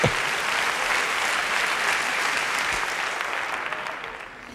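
A comedy club audience bursts into loud, dense applause that stays steady for several seconds and then starts to taper off, with no voices over it.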